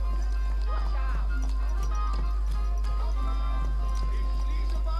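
Horse hooves clop steadily in Kingdom Come: Deliverance 2, mixed with background music and voices.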